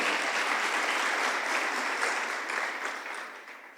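Audience applause at a talk, a dense, even wash of many hands clapping that holds steady before gradually thinning and fading toward the end.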